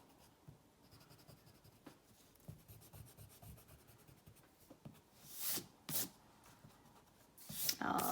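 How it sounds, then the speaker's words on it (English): An eraser rubbing out pencil lines on paper during a cartoon drawing, heard as faint, soft scratchy strokes that swell into a few louder, quick rubbing bursts near the end. "just rub out any of the lines that you didn't need from before."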